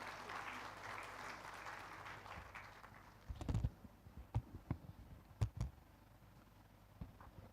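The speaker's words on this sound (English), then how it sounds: "A big round of applause for the Honorable Minister." Audience applause for a minister at a port inauguration event in Goa, a broad steady wash of clapping that thins out midway into a few scattered, louder individual claps near the microphone.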